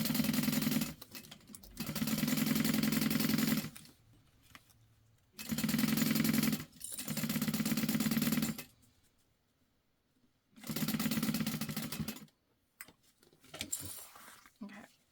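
A sewing machine stitches a tote bag seam in close, steady whirring runs, several bursts of a few seconds each separated by short pauses.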